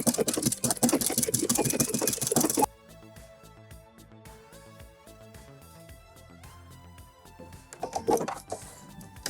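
Domestic sewing machine stitching a narrow decorative pattern with a double-eye needle and double thread: a rapid rhythmic mechanical tapping and whirring, fairly quiet and close, preceded by a brief burst of louder rustling noise.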